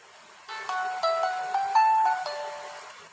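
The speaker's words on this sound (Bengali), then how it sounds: "সিম্ফনির সাউন্ডগুলো আসলে এ ধরনেরই মিষ্টি সাউন্ড হয়ে থাকে" A Symphony B70 mobile phone plays its ringtone: a bright, clean electronic melody of stepped notes, heard up close for about three seconds with nothing else in the background.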